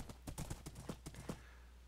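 A Minecraft horse trots across desert terrain, its hooves giving a quick run of about a dozen crisp, close clip-clop beats that stop after just over a second.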